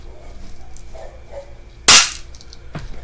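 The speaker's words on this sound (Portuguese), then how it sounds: "E quando você engatilhar, tem que engatilhar e trazer tudo para trás e soltar. E dar o tiro." A P226 air pistol is cocked and fired: one sharp, loud crack rings out, followed a moment later by a short mechanical click against quiet background noise.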